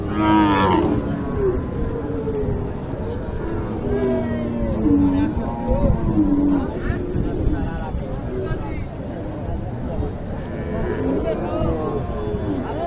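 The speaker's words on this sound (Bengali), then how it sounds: "গরু দুটা দেখেন ভালো করে খুবই চমৎকার গরু" Sahiwal cattle at a Naogaon cattle market, a bull moos several times, drawn-out low calls near the start and middle, with someone talking over the market bustle.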